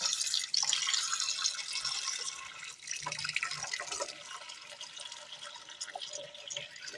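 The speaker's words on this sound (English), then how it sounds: "you're going to let that pan fill up with the cold water" Cold water runs from a kitchen tap into a pan, a steady bright splashing and filling rush that stays close and continuous throughout with no voices.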